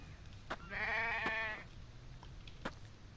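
A sheep in The Infected video game gives one clear, wavering bleat lasting about a second, near and moderately loud, with a few soft clicks and thumps around it.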